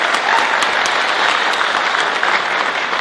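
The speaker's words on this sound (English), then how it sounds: "Sheena Holler, let's give her a round" An audience at a hall of fame ceremony breaks into steady, dense applause, many hands clapping continuously and fairly loudly for the whole stretch, with no voices standing out.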